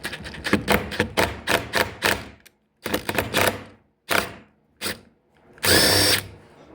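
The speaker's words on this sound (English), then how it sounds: "We're gonna grab our impact here and break this free." Impact wrench breaking loose a reverse-thread nut on an SRM225 string trimmer: a series of loud, close rattling bursts of varying length separated by short pauses, ending in a longer full-power burst.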